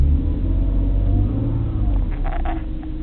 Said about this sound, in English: I'm revving the car a little bit.